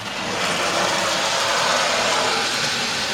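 A model railway B12 steam locomotive runs steadily on a loft layout, giving a continuous close whirring, rumbling mechanical drone with no pauses and no voices.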